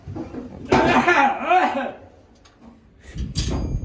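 A couple of harsh bursts that sound like coughing, with a short gap between them.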